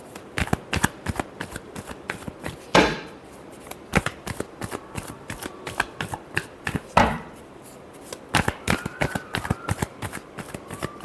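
Tarot cards being shuffled by hand, a steady run of crisp riffling snaps and slaps with two longer cascading riffles, close and clear with no talking.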